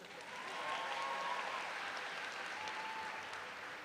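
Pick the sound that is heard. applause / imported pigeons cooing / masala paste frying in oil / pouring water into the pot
applause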